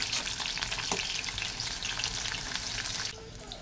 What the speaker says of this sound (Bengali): আগে মাছ না ভেজে আলু ভাজা বসিয়ে দিয়েছি